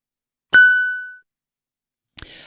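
A single bright notification bell dings once and rings out for about half a second before fading, followed by a brief soft click or chime near the end, with no voices.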